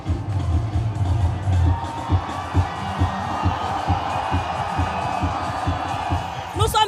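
Outdoor crowd at a political rally in Côte d'Ivoire cheering and shouting for minister Charles Blé Goudé, a continuous dense roar of many voices with whoops and loud low thumps, steady throughout.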